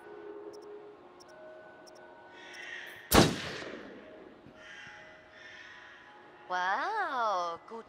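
A single sharp hunting rifle gunshot cracks out midway in the video game Until Dawn, with faint ambient tones around it and an electronic warbling sound near the end.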